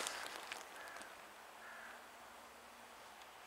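Crows caw a few times in a city park square, faint and distant over a quiet hiss of background noise.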